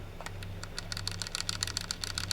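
Typing on a HEXGEARS X3 TKL wireless mechanical keyboard with linear red switches, a quick run of light, soft key clacks in an uneven rhythm, close up and alone under a faint low hum.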